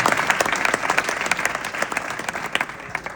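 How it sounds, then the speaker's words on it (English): Sustained applause from a sizable crowd at a programme launch at Rich Mix, dense clapping throughout with no voices rising above it. "another round of applause, please"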